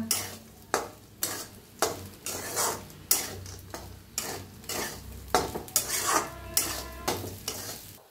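Sabudana khichdi with peanuts is stirred in a pan: about a dozen rhythmic scraping strokes of a utensil against the pan, close and fairly loud, over a faint sizzle, with no talking.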